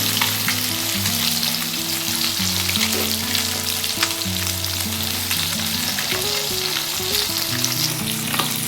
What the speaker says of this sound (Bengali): মাছটা আমার ভাজা হয়ে গেছে মাছটা আমি এবার তুলে নেবো